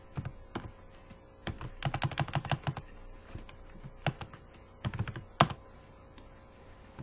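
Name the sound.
typing C++ code on computer keyboard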